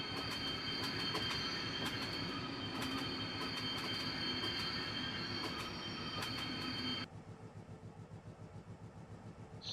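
Train game locomotive rolling along rails with steady rumbling, wheel squeal and periodic clicks at close range, loud throughout, then dropping abruptly to a quieter, pulsing rumble near the end.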